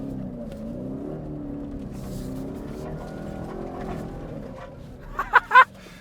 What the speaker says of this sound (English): When you really get in that throttle, you hear that superchargers start whining like crazy